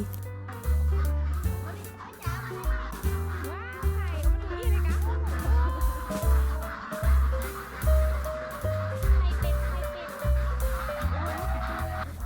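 Ducks in a duck coop on a family farm stay in Chiang Rai quack loudly and repeatedly, a close, rhythmic chorus of honking calls that continues throughout.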